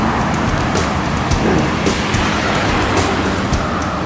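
A Laksmi Langgeng coach bus on the road out of Solok bound for Jakarta, heard as a steady, loud rumble of engine and road noise that runs continuously with no talk.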